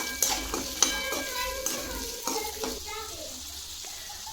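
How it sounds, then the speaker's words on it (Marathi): Peas, peanuts, potato, carrot and apple ber sauté in a pan for a Makar Sankranti bhogi vegetable dish, with a soft sizzle under repeated scraping and clattering stir strokes. "आपल्या भाज्या आता व्यवस्थित परतून झाल्या"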